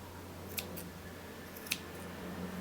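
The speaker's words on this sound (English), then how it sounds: "And I could just keep trimming here until there's nothing left." Scissors snip twice through a fluffy yarn pom-pom during trimming, two crisp, fairly faint cuts close by against a quiet room.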